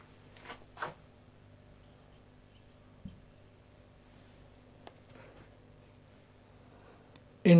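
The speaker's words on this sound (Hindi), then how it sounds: "अभी लिख लेते हैं हम" Handwriting with a pen on paper, faint close scratching strokes in a few short bursts separated by quiet gaps, with a louder thump at the very end.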